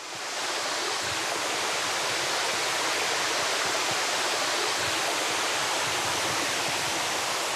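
A small mountain stream in a Cévennes valley flows with a constant, full rushing wash of water, close and steady throughout with no voices.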